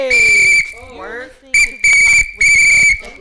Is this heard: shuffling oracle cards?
no